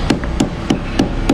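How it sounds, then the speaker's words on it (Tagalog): Five evenly spaced blows of a rubber mallet pounding on a motorcycle handlebar, sharp thuds repeating about every third of a second, close and clear. "Rubber mallet lang yan"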